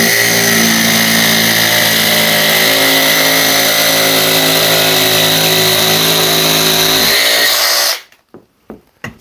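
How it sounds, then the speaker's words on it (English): A jigsaw cuts through composite decking with a loud, continuous buzzing whine that holds steady for about eight seconds, then stops abruptly, leaving a few faint knocks. "that's two different types of composite decking you can cut using a jigsaw"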